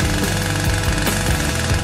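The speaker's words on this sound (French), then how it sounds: "Et moi, je vais utiliser une scie." A saw cuts into a watermelon with a loud, continuous rattling buzz and rapid rhythmic pulsing, close and steady for the whole stretch, with no talk.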